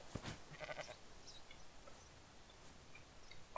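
A sheep bleats in the video game Rising World, a short faint call near the start followed by quiet ambient game sound with light chirps and ticks.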